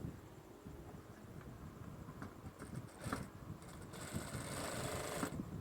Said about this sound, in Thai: แล้วก็เย็บเนาต่อมาครับ